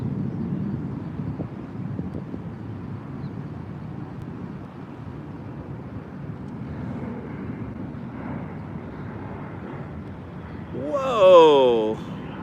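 A bomber passing overhead in a military flyover saluting the great cities of the American Revolution, heard as a low, steady, distant rumble that lingers for many seconds, with a voice exclaiming loudly near the end.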